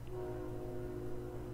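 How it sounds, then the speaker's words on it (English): A steady, loud train horn blares in a video game, a sustained droning chord held without a break for over a second with rumbling low tones beneath. "and that's a train, by the way"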